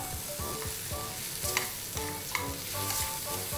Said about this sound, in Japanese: 小麦粉を混ぜて、いい香りですね。